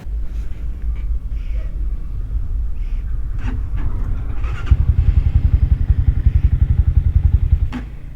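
A motorcycle engine idling close by after the fuel tap was adjusted, a loud low rumble that settles into a rapid, strongly pulsing putter with a few clicks and knocks.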